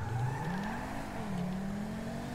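Audi R8 engine in Grand Theft Auto V accelerates off the race start, a steady rising engine tone climbing in pitch, loud and continuous with no speech.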